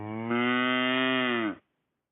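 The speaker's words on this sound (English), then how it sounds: "The cow noises are back!" A cow lets out one long, loud, drawn-out moo that lasts about a second and a half and then cuts off sharply into silence, heard alone as a sound effect.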